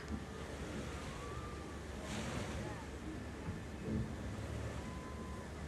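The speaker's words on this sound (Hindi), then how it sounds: "ये निकल गई हमारी बोट" A small tour boat heading out to sea off Thailand's coral island near Bangkok, with broadband engine and water rush, waves and wind buffeting the microphone, steady and fairly loud throughout.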